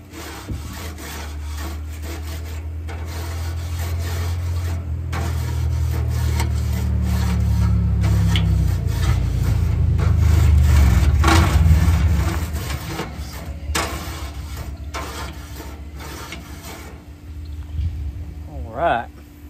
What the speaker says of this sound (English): So now let's clean them grates off real quick,